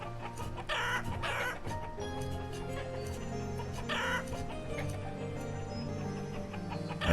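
Chickens cluck steadily in a farming village in the game Banished, with repeated fowl calls and a few sharper squawks over a constant layered ambient bed of game sounds.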